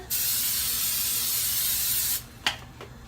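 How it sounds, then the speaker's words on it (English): A long, steady aerosol hiss of cooking spray sprayed into a pan lasting about two seconds, then a quiet pause broken by a couple of short, sharp clicks. "I am going to do 1 more shot of spray in the pan."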